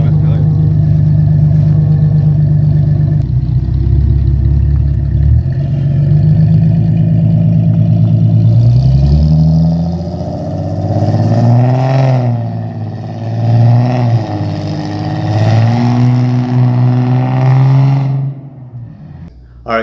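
A Nissan 370Z fitted with Motordyne Art Pipes exhaust idles with a loud, deep steady drone up close, then revs repeatedly, its pitch sweeping up and falling back several times before cutting off abruptly at the end.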